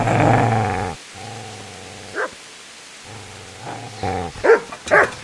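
A dog growls in low, drawn-out rumbles that come in two long stretches, with short sharp barks or yelps popping out near the end, close and fairly loud.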